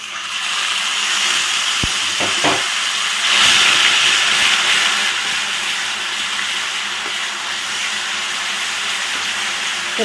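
Ginger, garlic and chilli paste, mixed with a little salt and turmeric, hits a hot pan for an omelette curry and sets off a steady, loud sizzling hiss. The sound swells for a moment and then holds for the full stretch with no talking.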